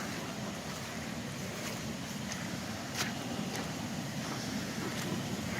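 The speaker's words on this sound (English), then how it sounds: "There's a lot of pressure coming out of this pipe." Water gushes under pressure from a pipe onto a flooded back road after several days of heavy rain, a steady, loud broadband roar that continues unbroken throughout, with no voices heard.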